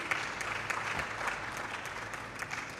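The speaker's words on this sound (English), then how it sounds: "please, a round of applause" Moderate, steady clapping from a policy day audience of scientists and economists closes a session, a soft continuous patter lasting a few seconds.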